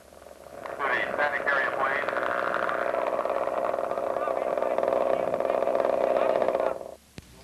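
Engines of scale model aircraft run at a flight line, a loud, steady buzzing drone that swells in and holds for several seconds before cutting off abruptly near the end.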